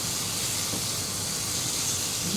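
Boneless chicken dropped into hot spiced oil, a continuous close sizzling hiss that stays steady and fairly loud throughout.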